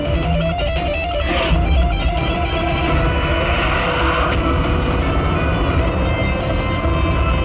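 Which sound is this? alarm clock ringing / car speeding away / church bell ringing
car speeding away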